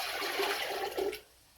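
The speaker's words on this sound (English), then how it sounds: "we would dump this water into the toilet." Water dumped from a basin into a toilet during a peri-care procedure, a brief close splash and gush that cuts off abruptly, leaving quiet room tone.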